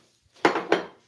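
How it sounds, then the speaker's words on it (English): A pestle and mortar being shifted aside on a kitchen surface: two quick, close scraping thuds of heavy stoneware, loud and brief after a moment of near silence, with no talking. "Move my pestle and mortar out the way."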